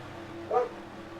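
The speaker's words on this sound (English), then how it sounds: "What are you barking at?" A dog barks once indoors, a single short bark partway through, with a low steady hum underneath.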